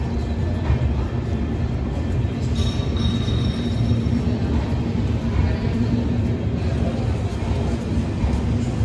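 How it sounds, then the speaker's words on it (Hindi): The Mewar Express train, arriving in reverse at a platform in Udaipur, gives a steady loud rumble with clattering and faint squealing, heard close and continuous. "तो ट्रेन तो आ चुकी है,"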